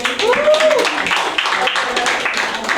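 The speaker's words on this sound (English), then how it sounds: "Y'all give Tess a round of applause" A small audience at a writing session claps for a performer after her piece, brief scattered clapping mixed with cheering voices and chatter.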